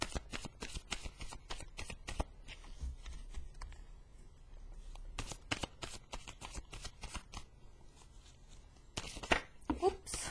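Tarot cards are shuffled in quick, crisp riffling bursts that repeat near and close, with a few softer pauses between them and a brief voice near the end.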